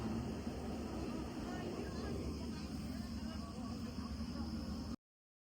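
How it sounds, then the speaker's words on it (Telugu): An airliner taxis at Newark airport toward the runway, its steady engine drone and low rumble filling the cabin evenly for about five seconds before cutting off abruptly. "ఫ్లైట్ నెవార్క్ ఎయిర్పోర్ట్ నుంచి స్టార్ట్ అవుంది. సో రన్వే మీదకి వెళ్ళడానికి సిద్ధంగా ఉంది"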